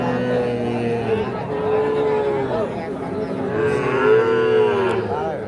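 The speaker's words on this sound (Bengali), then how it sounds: "এই দেখছেন এগুলো কিন্তু সবই ষাঁড় বাচ্চা।" Young bull calves at Ambari cattle market moo repeatedly in long, drawn-out calls, near and loud, overlapping one another over a low murmur of market crowd noise.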